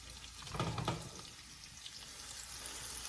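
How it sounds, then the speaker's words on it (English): Onions, scallions and celery hitting hot oil in a pan, giving a steady close sizzle and frying hiss with a brief stirring burst early on, no voices. "Now that the oil is hot, I'm going to incorporate the onions, the scallions, and the green onions, whatever, and the celery."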